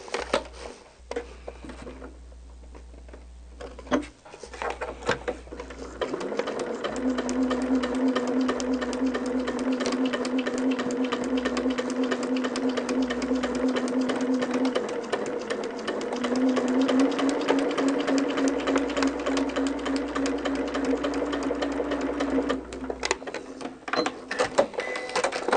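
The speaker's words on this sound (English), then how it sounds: "All right, let's sew." A sewing machine stitches in long, steady runs of rapid mechanical whirring, starting after a few quiet, clicky seconds and pausing briefly in the middle before running on again.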